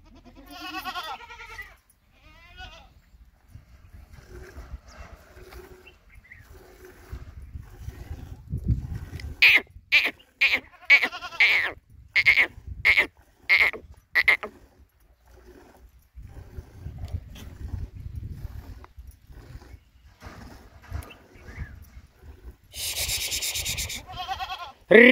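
A goat bleats repeatedly while being milked, loud nasal cries coming in a rapid run of several calls with gaps between, amid scattered farmyard noises and shuffling.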